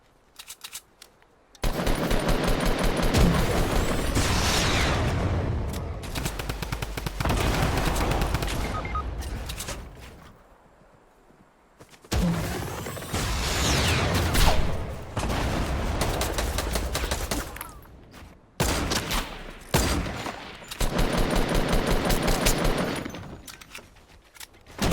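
Dense, loud bursts of rapid automatic gunfire and shots in a video game during a live event, coming in long stretches broken by brief pauses.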